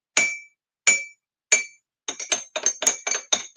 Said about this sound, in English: use the clinking of this cup to clear your energy